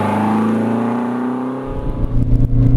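A Renault 5 Turbo 2, the Group B-era hot hatch, is driven hard with its engine droning steadily close up, then revving harder and rougher as it climbs toward the end.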